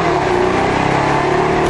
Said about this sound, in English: you probably like the sound of the car under power